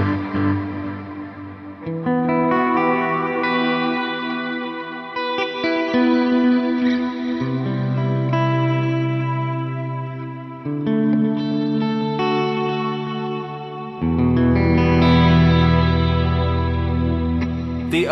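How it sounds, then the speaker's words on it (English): A sustained electric guitar through an HX Stomp plays slow chords washed in delay and reverb, notes blending into a lush ambient swell with no talking. "I can just turn on my delay and reverb and have a nice ambient sound"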